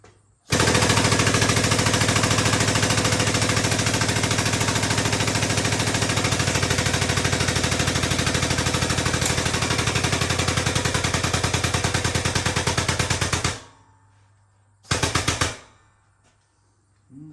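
Homemade air-powered 20-ton press brake bending metal, a loud rapid mechanical rattling hammering that runs nonstop for about thirteen seconds, stops, then fires again in a short burst.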